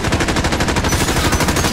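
Rapid automatic gunfire in the Warzone video game, fired at an armored truck, loud and close in dense repeating bursts throughout.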